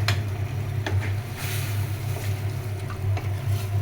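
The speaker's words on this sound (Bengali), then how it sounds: "মশলা কষিয়ে নিচ্ছি, আলুটা কষানো হয়ে যাক।" Spices and potatoes are stir-fried in a pan for a fish curry, giving a close, continuous sizzle broken by repeated scraping strokes of a spatula.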